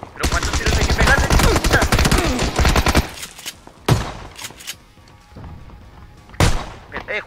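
Gunfire in the video game PUBG: a dense burst of rapid shots for about three seconds, then a few single heavy blasts spaced apart, loud and close.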